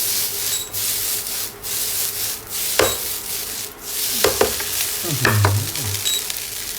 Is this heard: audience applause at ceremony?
no